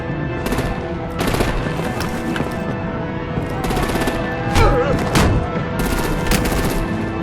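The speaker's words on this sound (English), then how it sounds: "Break out the artillery and disable their vehicles!" Rapid automatic gunfire and artillery from the Telltale Batman: The Enemy Within video game, sounding in repeated loud bursts over a continuous droning battle backdrop, with brief voices mixed in.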